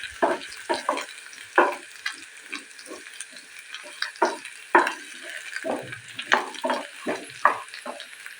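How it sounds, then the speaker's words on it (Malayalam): Bitter gourd sautéing in oil in a pan for a Palakkad-style curry, with loud close sizzling bursts and repeated spatula scrapes stirring in an irregular rhythm. "കുറച്ച് എണ്ണ ഇട്ടിട്ട് ഒന്ന് ഒഴിച്ചിട്ട് കുറച്ചൊന്ന് എടുത്താൽ മതി"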